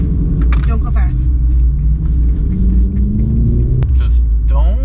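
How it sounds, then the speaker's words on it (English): Loud BMW M3 engine rumbling steadily from inside the car, deep and continuous with a slowly rising tone, while people talk over it. "Yeah, this car is loud."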